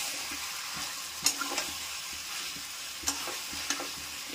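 Cashew paste ground with sugar sizzling into a jackfruit chicken curry in a hot pan, a continuous close frying hiss with a few sharp scrapes of a spoon stirring the mixture.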